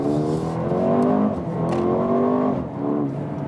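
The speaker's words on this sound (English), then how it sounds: "So now we can also accelerate out of the corner from the standstill, from the stop sign" A Mercedes-AMG GLB 35 SUV revs up from a standstill at a stop sign, its exhaust note rising through a couple of gear pulls, steady and fairly close.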